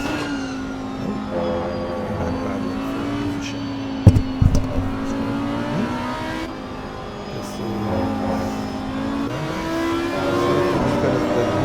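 Race cars lapping a circuit during a battle for position, with a steady, loud engine drone that swells and revs throughout, plus a sharp thump near the middle.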